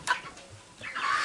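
Five-week-old meat chickens clucking in short bursts, a brief call near the start and a louder stretch of clucking toward the end, fairly close with no talk.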